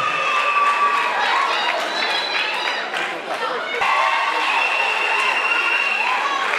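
A live audience at a debate competition final applauds a woman contestant, sustained clapping and crowd noise running under steady talk.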